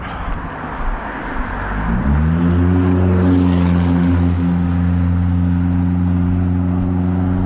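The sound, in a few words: car driving past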